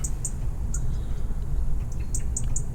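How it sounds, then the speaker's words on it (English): Small birds, robins, finches, wrens and blackbirds, chirp in short, bright bursts outside a kitchen window over a constant low rumble, the calls scattered and fairly faint. "we've got robins and finches and wrens and blackbirds and all kinds just outside our kitchen window"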